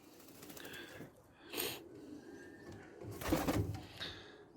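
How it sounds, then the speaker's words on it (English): Frill stencil pigeons in a garden loft, cooing softly in short, separate bursts, faint and spaced a second or two apart against quiet background noise. "these frill stencil birds are beautiful"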